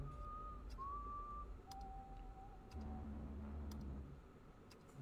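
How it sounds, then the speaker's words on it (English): Someone whistles a short tune in the style of the Hunger Games signal: several sustained, sliding notes, fairly clear over a low background rumble with a few faint ticks. "using a Hunger Game whistle"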